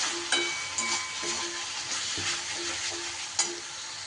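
Ground spices (coriander, cumin, turmeric and chilli powder) sizzle steadily in hot oil in a pan for an egg dhoka curry, with a few sharp scrapes of a stirring spoon against the pan.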